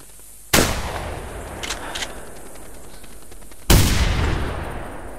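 Two loud, sharp rifle shots ring out in The Hunter during a goose hunt, each followed by a long rolling echo that fades slowly, with faint honking in between.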